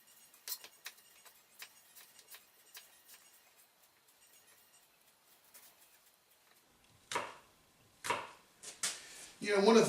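A knife dices vegetables and apples on a cutting board, light quick taps early on, then a few louder, sharper chops near the end.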